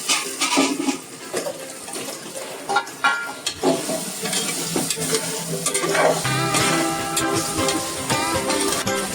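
Prawns fry in a pan with ginger-garlic paste for a spicy kolambi bhaat, crackling and sizzling close up while a utensil stirs and scrapes, the sizzle swelling and settling in uneven bursts.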